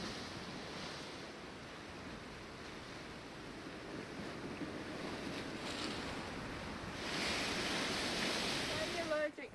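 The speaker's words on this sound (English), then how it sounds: "there's a bit of sea ambience" Sea ambience on the coast at Hartlepool: a steady broadband wash of surf and wind that swells slightly louder toward the end, with a brief faint tonal sound near the close.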